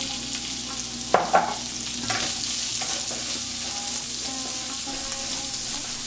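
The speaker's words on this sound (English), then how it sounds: "Now add onion and fry it until they are translucent." Chopped onion frying with chopped coconut in a pan for egg tarka dal, a steady even sizzle with a couple of brief stirring knocks near the start, close and without talk.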